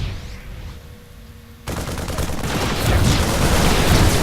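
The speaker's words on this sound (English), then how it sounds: "taking a few shots from the Stalkers, and then there is a large confrontation again" Marines and Stalkers trade fire in a StarCraft II battle: a sudden dense burst of rapid gunfire and blasts that stays loud and busy to the end.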